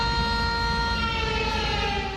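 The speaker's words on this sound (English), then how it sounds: "That's the sound of a flood siren as people in Sumas," A flood siren in Sumas, Washington wails with a loud, steady tone that holds evenly and fades slightly at the end.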